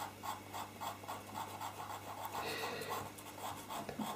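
Pastel pencil drawing freehand on paper for a rainbow, a soft dry scratching and rubbing of strokes in a steady back-and-forth rhythm, close and quiet with a faint low hum beneath.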